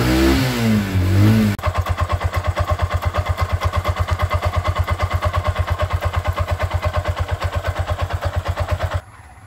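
A three-wheeler tuk-tuk engine starts with a brief rough burst, then revs and holds a fast, even, pulsing putter for about seven seconds, loud and close, before cutting off abruptly.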